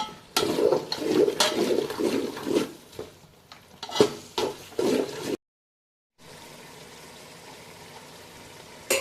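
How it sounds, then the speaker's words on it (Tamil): Coriander and mint stirred into a biryani masala in a pot with repeated scraping, clattering spoon strokes for about five seconds, then a short silence and a soft, steady low background. "ஒரு கைப்பிடி மல்லியும் புதினாவும் சேர்த்துக்கிறேன். சேர்த்து நல்லா கிண்டி விட்டுக்கோங்க"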